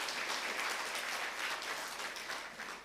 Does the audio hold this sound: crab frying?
no